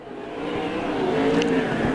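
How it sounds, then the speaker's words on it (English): USAC Southwest sprint car at Canyon Speedway racing down the front straightaway, a sustained engine drone rising and swelling as it nears, moderately loud with no talk. "Doesn't even sound like he's on the gas when he comes down the front straightaway."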